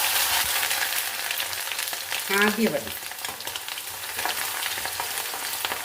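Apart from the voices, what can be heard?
ginger frying in oil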